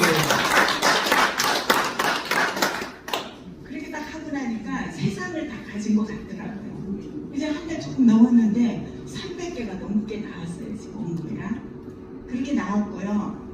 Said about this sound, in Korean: 박수 한번 때려줘요.